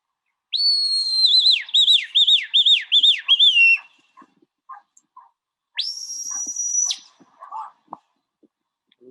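Sharp, high whistles from a shepherd commanding sheepdogs carry across open air in the Scottish Highlands: a rapid warbling series, a pause, then one long sustained whistle, with faint thuds and rustles between.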